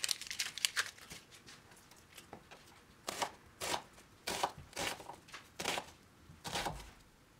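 A knife slicing onions thinly for vegan koshari, with soft, faint cutting strokes, a few spaced taps early, then clusters of crisp chops against the board, close and quiet with no talking.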